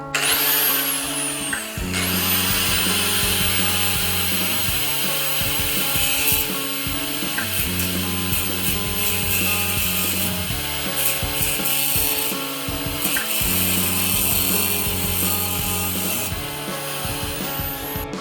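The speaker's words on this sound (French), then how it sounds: "Pour cette opération, je sors la meuleuse que je n'apprécie pas beaucoup." An angle grinder cuts through rusted screws on the frame of an old Eriba Puck caravan, a loud, steady grinding whine that runs almost unbroken for the whole stretch.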